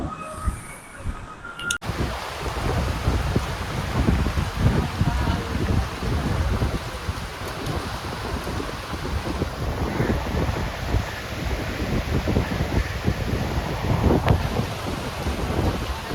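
A full, heavy downpour at Mangalore beach roars steadily and loudly, with wind buffeting the microphone, after a brief quieter moment at the start.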